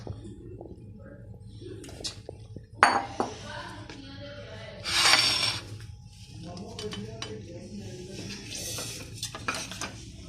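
Kachumber salad ingredients being mixed in a bowl, with a spoon clinking and scraping against the dish in irregular bursts, close and moderately loud, including a sharper clatter near the middle.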